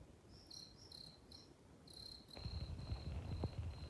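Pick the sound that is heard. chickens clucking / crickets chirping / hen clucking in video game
crickets chirping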